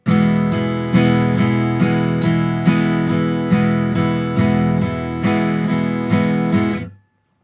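Acoustic guitar strummed in even, steady eighth notes, bright chords ringing loud and close, then cut off abruptly at the end.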